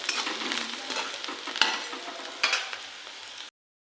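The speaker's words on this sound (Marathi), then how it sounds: "तेल ओतल्यानंतर कांदा आपल्याला परतायचा आहे थोडंसं परतून द्यायचं आहे" Onion frying in oil and being stirred, a steady close sizzle with scraping stir strokes and a couple of sharper clinks, alone without talk, ending abruptly into silence.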